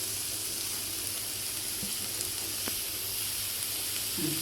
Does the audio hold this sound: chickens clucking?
no